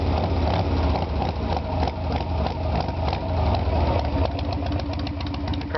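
A 1996 Harley-Davidson Sportster 883 with a rebuilt carburetor idles close by, a loud, steady, uneven V-twin lope with rhythmic chugging pulses and no talk.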